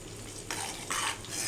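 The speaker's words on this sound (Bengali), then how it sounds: "বেশ খানিকক্ষণ ধরে আমি নাড়াচাড়া করব।" Homemade hair oil is stirred in a pan in a few quick scraping strokes, with a soft sizzle of heating oil, close and fairly quiet.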